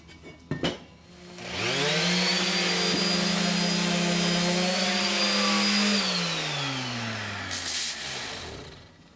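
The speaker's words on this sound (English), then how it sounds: "I start sanding at a nice even pace" A power sander whines steadily for several seconds on aluminum after a couple of knocks, its pitch dipping and rising slightly as it works, then winding down.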